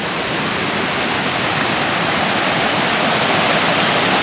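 A mountain stream beside a village path in Arunachal Pradesh rushes loudly and continuously, a dense close hiss of flowing water with no voices over it.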